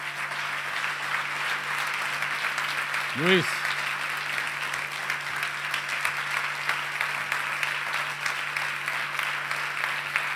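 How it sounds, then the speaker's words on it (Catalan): Applause from attendees at a 25th-anniversary event for a municipal IT institute, steady broadband clapping across the whole clip with a steady hum beneath and one brief spoken word partway through. "demano un aplaudiment per tothom"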